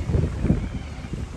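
Wind blowing hard at Geraldton Port in Western Australia on a stormy, overcast day, a steady low rumbling buffet across the microphone with no voices.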